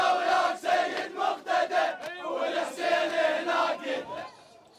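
Angry crowd of protesters shouting in Baghdad outside the Swedish embassy, rhythmic massed chanting in repeated loud bursts, steady and near, fading at the end.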